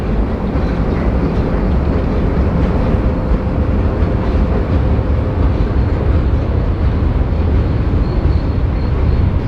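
A freight train rolls past near a river with its caboose at the end, a loud, constant rumble and rattle of cars on the rails that holds steady throughout.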